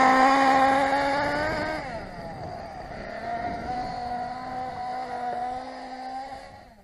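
A small nitro-powered RC car engine buzzes at a steady moderate rev while driven gently over short grass in cold weather during break-in, its whine dipping and rising slightly and fading toward the end.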